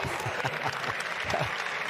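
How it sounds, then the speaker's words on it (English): A college wrestling crowd at a Rutgers vs. Penn State Big Ten match reacts to a heavyweight takedown with a broad rush of noise, scattered claps and rising murmurs, steady and fairly loud throughout. "when you take a man off his feet, you hear the gasp of the crowd right there, the ooh and the ah"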